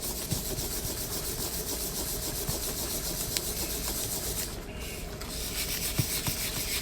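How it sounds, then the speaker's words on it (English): A coin ring is sanded toward a tapered shape, making a continuous close rasping rub with a low background hum and small irregular ticks. "Now, what I want to do is kind of bring it down to a more tapered look. I'm going to sand it again."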